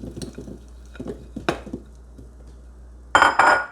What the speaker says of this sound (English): Now that we preheated for 2 minutes, we'll go ahead and throw our potatoes in.